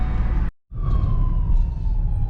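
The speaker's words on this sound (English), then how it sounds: "there goes an ambulance" An ambulance siren passes along a downtown street, heard from inside a moving vehicle: one steady wailing tone that slowly drops in pitch as it goes by, over constant road rumble, after a brief dropout.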